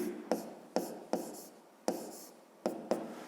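Pen writing on paper during a fifth-grade maths exercise, a quiet close scratching in short strokes with sharp taps between them, no talk.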